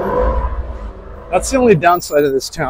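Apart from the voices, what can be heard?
car speeding past in town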